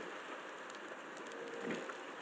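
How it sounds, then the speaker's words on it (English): Steady rain falling in a building video game, a constant even hiss of drops with no other sounds. "The rain's back, which is nice."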